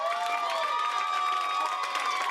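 A crowd at a school district board of trustees meeting breaks into cheering and applause after an approval vote, a dense, sustained burst of shouts and clapping with high excited voices rising over it.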